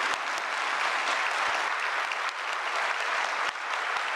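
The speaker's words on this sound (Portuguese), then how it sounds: "E eu quero pedir a que todos nós possamos aplaudir os servidores do INSS" Dense, sustained clapping from an audience in a Brazilian government event honoring INSS public servants, steady and even throughout with a few sharper individual claps standing out.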